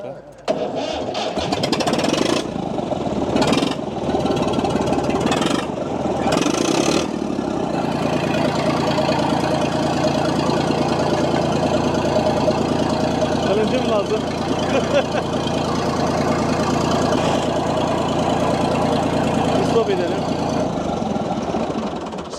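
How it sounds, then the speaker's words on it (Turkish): A 1940s-era engine cranks and catches after a few seconds, then runs steadily at a rough idle, loud and close, with people talking and laughing over it. "1940'tan kalma motor."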